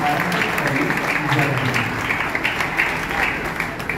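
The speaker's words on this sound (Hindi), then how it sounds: "आपकी तालियों से पूरा माहौल गुंजायमान होना चाहिए" Sustained audience applause fills a gathering at a religious yagna event in Bikaner, loud and dense throughout with a murmur of voices mixed in.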